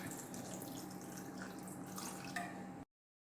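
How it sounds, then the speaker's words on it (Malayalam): A little water poured into a pot with broken jaggery, a continuous close splashing stream lasting a few seconds before cutting off abruptly. "കുറച്ച് വെള്ളം ഒഴിച്ചു കൊടുക്കാം"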